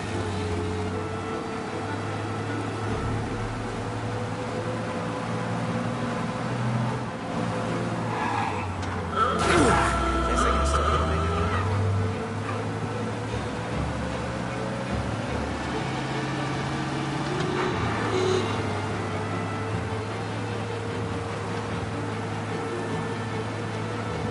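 A car speeds through a police chase in the Mafia video game, its engine droning steadily for the whole stretch with a brief swell partway through, under a layer of game noise.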